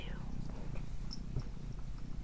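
A female house cat purrs steadily and close, a low continuous rumble with a faint ticking texture, while a person speaks softly over it.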